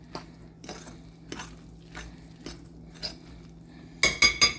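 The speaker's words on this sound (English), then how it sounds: "you want to get in here and give this all a really, really good mix" Salmon burger mixture with a sprinkle of flour being worked in a bowl, a series of soft spaced clinks and scrapes against the bowl, then a quick burst of three louder clattering knocks at the end, no talking.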